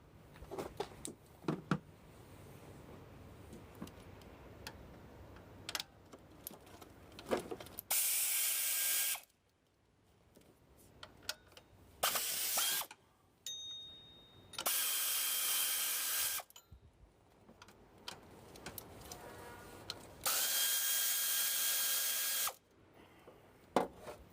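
Ratchet loosening 15mm bolts on a 2003 Buick LeSabre with the 3800 engine, heard up close as several separate bursts of quick metallic clicking, each lasting a couple of seconds, with quieter handling noise in the gaps.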